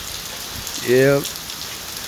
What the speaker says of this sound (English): just started raining out the blue.